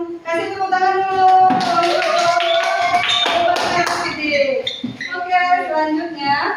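A group in a classroom claps hands in quick, close, rhythmic bursts, mixed with lively voices speaking and singing over the clapping.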